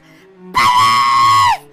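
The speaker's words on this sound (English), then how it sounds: "Just stop screaming!" A single loud, sustained high-pitched scream bursts in suddenly and holds for about a second before cutting off, over a quiet background.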